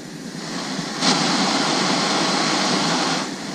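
A Jetboil Micro Mo backpacking stove, lit by its piezo igniter, burns with a steady, loud, jet-like roar that surges louder partway through and holds, close by.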